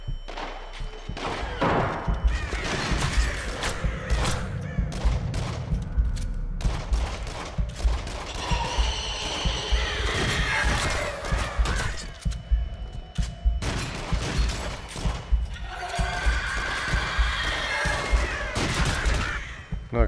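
Rapid gunfire from a regular gun in the VR shooter game Until Dawn: Rush of Blood, with dense bursts of shots and thuds running loud and steady throughout, mixed with other game effects.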